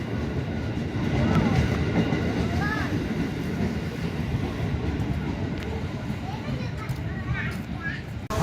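A large new train rolls past, its steady rumble and faint clickety-clack continuous throughout, while a woman and small children talk over it.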